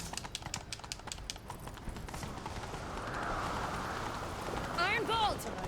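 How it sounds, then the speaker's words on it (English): Hooves clip-clop at a quick gallop in The Witcher 3 game as a horse races along, followed by a swelling whoosh and a short voiced call near the end. "Grab a horse, we'll chase him down."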